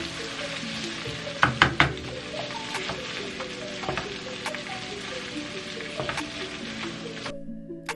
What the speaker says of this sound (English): Make sure you break this tomato paste up real well.